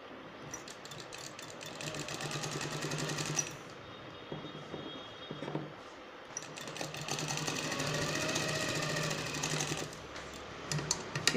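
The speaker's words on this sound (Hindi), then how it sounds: "इसके ऊपर डबल सिलाई लगा देंगे हम" A sewing machine double-stitches a pocket on palazzo pants, running in fast rattling bursts of several seconds separated by brief pauses, close and clear.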